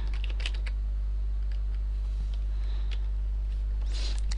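Computer keyboard typing while entering admin commands on a game server, with scattered soft key taps over a steady low hum, fairly faint and without speech.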